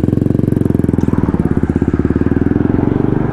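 A BMW F850 GSA motorcycle riding along, its parallel-twin engine giving a steady, loud, close throbbing drone with even rhythmic pulses throughout.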